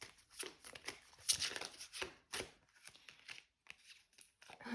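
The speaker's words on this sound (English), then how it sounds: "let's pull some oracle cards" A deck of oracle cards is shuffled by hand up close, giving quiet, uneven riffling and flicking bursts with soft slaps between them and no voice over it.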